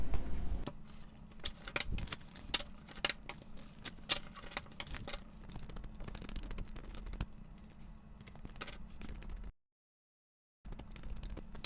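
Tarot cards are shuffled and pulled by hand, with a steady run of soft, quick flicks and taps over a low background hum and a brief silent gap near the end.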